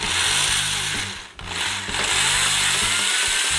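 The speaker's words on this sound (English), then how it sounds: "I'm actually gonna drill pilot holes because I don't want to just try and force it in there." A power drill bores pilot holes for the grille screws on a Porsche 991 911, producing a loud, close, continuous whine that dips briefly before resuming.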